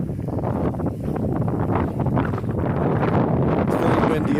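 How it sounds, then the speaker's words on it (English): Strong wind buffets the microphone outdoors at a former theme park site in Arizona, a loud continuous rumbling roar with gusty surges throughout. "It's very windy up here too"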